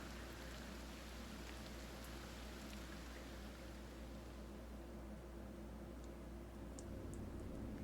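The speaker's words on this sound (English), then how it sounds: "Lo, the rain doth fall" Steady, soft rainfall in the video game Dragon Quest I HD Remake, with a constant hiss and occasional faint drips, continuing evenly without any voices.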